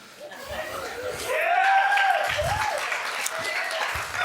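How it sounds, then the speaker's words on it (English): A church congregation claps for the youth leader and pastor as he steps up at a Sunday service, a broad wash of applause with a few chuckles mixed in, building and then holding steady. "I get stressed when people clap before,"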